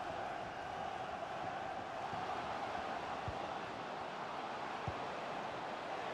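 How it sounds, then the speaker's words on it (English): Stadium crowd in the FIFA 20 football game, a steady distant roar of many voices holding at an even level throughout, with a couple of brief thuds standing out. "Derek, listen to that noise. The crowd can sense something"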